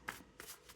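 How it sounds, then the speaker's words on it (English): Tarot cards being shuffled during a reading, a few brief soft riffling bursts, quiet and close with no voices. "I will shuffle it again just to be sure."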